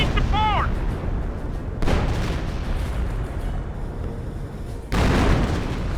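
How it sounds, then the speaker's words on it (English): A creeping artillery barrage shelling a Flak 88 in Company of Heroes opens with a brief descending whistle, followed by two heavy booms under continuous rumbling battle noise, with voices faintly mixed in. "Oh, creeping barrage on top of the Flak 88."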